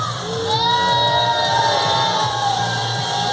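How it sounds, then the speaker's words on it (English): A live crowd, many of them children, cheers and whoops at the ZOOperheroes Show at Chessington World of Adventures Resort, a loud sustained roar of shouting voices that holds steady throughout. "Give me a cheer."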